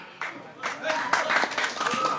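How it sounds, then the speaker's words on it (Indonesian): Spectators at a comedy performance in a Balinese village hall clap in scattered bursts that swell and overlap, mixed with talking and laughter. "aku tepuk tangan itu"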